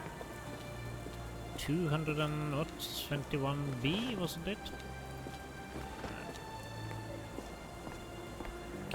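Steady rain falls in a Victorian London street scene from the Sherlock Holmes: The Awakened video game, a constant wash beneath voices talking over it, with a faint low rumble.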